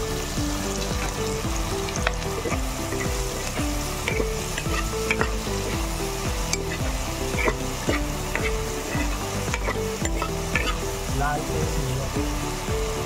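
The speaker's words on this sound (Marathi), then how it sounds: "आता लालसर असा ब्राऊन कलरचा आपण कांदा भाजून घेऊया।" Onions fry in a pan until reddish brown, giving a steady, close sizzle with repeated stirring and scraping that continues throughout, over a constant tonal background.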